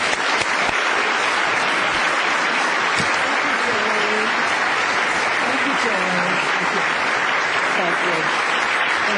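A large audience at the 2013 Santa Clara County State of the County address applauds steadily and loudly to welcome Congresswoman Anna Eshoo, a dense wash of clapping with a few cheers throughout.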